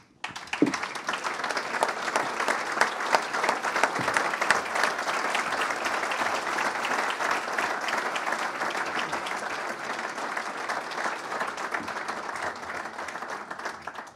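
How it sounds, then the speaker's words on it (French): A press-conference audience at the 24 Hours of Le Mans applauds the Toyota chairman, dense sustained clapping from a large crowd, fairly distant and even throughout with a brief swell at the start. "j'ai vraiment l'honneur et vous demande d'applaudir le chairman de Toyota, Toyoda-san."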